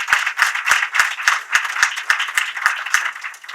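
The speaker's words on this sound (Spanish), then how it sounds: "Les quiero pedir a todos un aplauso también para nuestros participantes el día de hoy." Audience at a seminar and award ceremony on oral litigation clapping for the participants, sharp claps in a steady, even rhythm, close and fairly loud, easing slightly near the end.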